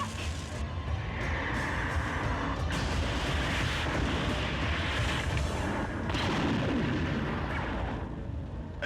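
Energy blasts from particle cannons in an animated sci-fi series, a dense continuous barrage of loud booming bursts lasting several seconds with no gaps.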